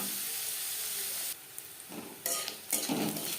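Chopped onions frying in a pan for a bean curry, a soft steady sizzle with brief louder bursts of stirring near the end, no voices.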